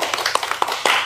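A religious gathering's audience claps in an uneven burst of separate hand claps, several distinct sharp strikes in about a second, fairly close and moderately loud, with no talk over them.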